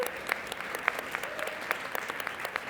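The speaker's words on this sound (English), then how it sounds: "big round of applause for Holly and Matt." An audience at a Sónar+D talk applauds, steady clapping from a crowd sustained throughout at moderate distance, with no talk over it.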